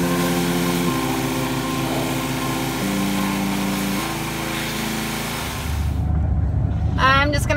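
A little blue tractor runs steadily nearby while tedding freshly cut hay in a field, a continuous engine drone with slight shifts in pitch, fading near the end as other noises take over.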